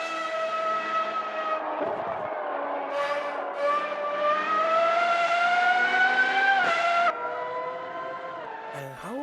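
Engine of a Mini race car at Road Atlanta in the Automobilista 2 racing game, a steady high-revving whine that climbs and dips through gear changes, loud and continuous with a short downshift dip near the end.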